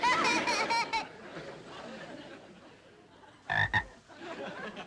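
A frog croaks in a burst of loud, rough calls at the start and again briefly near the end, with a quieter murmuring stretch between them.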